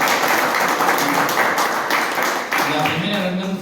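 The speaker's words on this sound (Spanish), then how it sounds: "Hay un aplauso para la reunión femenina." Audience applause at a women's church meeting gathering, a steady dense wash of clapping throughout with a brief dip and voices mixed in underneath.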